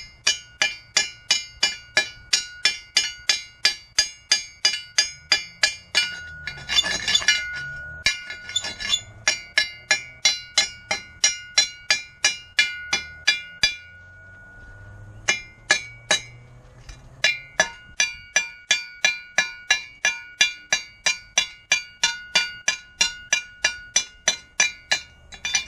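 Weld slag being chipped off steel with a cold chisel or a hunk of iron, a long run of sharp metallic clinks struck in a steady, fast rhythm, close by, with a short pause and some scraping midway.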